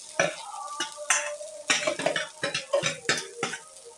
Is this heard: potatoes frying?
yes